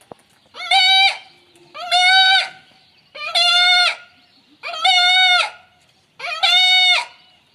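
A man imitates a nanny goat's bleat. Five loud, quavering bleats come at a steady pace, each lasting about half a second, with short silences between them.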